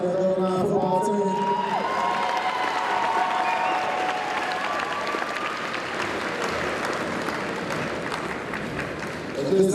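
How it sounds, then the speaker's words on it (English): A school homecoming assembly crowd applauds loudly with cheers, whoops and children's shouts, opening with a burst of excited voices and settling into sustained clapping that swells again at the end. "Can we have another round of applause for the Golden Line football team?"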